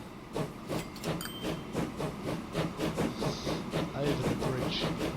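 A train in the video game Train Fever runs along the track with a regular chugging, hissing beat of soft rhythmic pulses at moderate volume.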